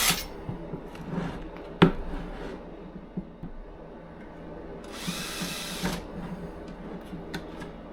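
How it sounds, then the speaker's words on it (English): Intermittent whirring of a power drill in short bursts as it drills holes in plastic buckets for honey bee feeders, with clicks and clatter between runs and one longer high whine near the end. "I'm going to go ahead and drill the rest of these"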